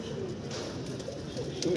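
A Madrasi pigeon, crested with red eyelids, gives soft low coos close by against a faint background hum.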